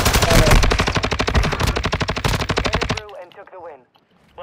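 Rapid automatic gunfire in Call of Duty: Modern Warfare II, a loud sustained burst of evenly spaced shots for about three seconds, then a quieter spell with faint game effects.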